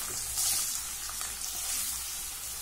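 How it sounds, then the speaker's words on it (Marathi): Cumin, turmeric and chopped bottle gourd hit hot oil with mustard seeds, bursting into a loud, bright sizzle that settles into a steady crackling fry. "जिरे घालूया, हळद आणि दुधी घालूया।"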